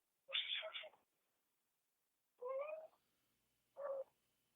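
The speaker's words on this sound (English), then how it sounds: "That's my cat." A pet cat makes three short, faint meow-like calls spaced apart, with near silence between them and no purring clearly heard.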